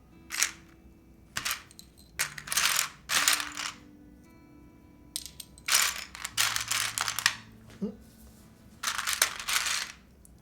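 Loose keyboard keycaps, arrow keys among them, clink and clatter in repeated bursts as they are sorted by hand during a keyboard build, the rattling handfuls close and fairly crisp, separated by short quiet gaps.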